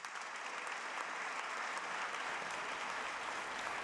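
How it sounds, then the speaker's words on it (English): A State of the State address audience in Rhode Island bursts into a steady wash of applause, dense clapping from a large crowd heard at moderate distance, with no one speaking. "let's give them another round of applause"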